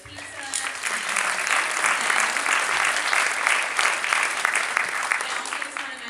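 Steady applause from an audience at a community meeting, thanking a local cafe for providing pizza; dense, even clapping sustained throughout at close range with no break.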